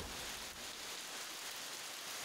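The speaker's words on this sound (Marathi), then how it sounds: "बघा तुम्ही किती जोरात पाऊस पडतोय" Heavy monsoon rain pouring down in Chaul, Alibag on the Konkan coast, a dense, steady hiss of drops on surfaces that stays loud and unbroken throughout.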